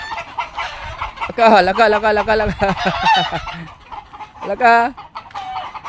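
A chicken clucks in loud, bursting runs of squawks close by, alternating with quieter pecking-like rustles; a person speaks a few short words in between.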